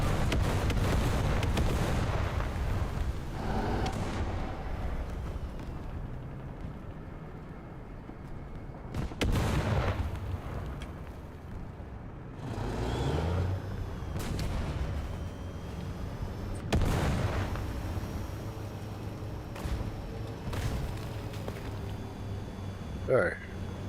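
Rocket artillery from a BM-31-12 launcher and gunfire in War Thunder: heavy rumbling booms and blasts recur every few seconds over a continuous low battle drone, with a voice talking over them.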